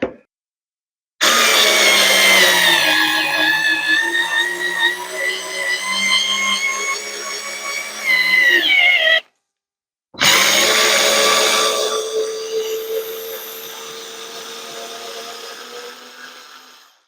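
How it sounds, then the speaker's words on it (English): A Ryobi FVD51K cordless multi-head screwdriver with a socket drives a bolt, whirring loudly in two long runs, its pitch dropping under load, with a brief pause between them. "We're going to actually try and drive a bolt through this."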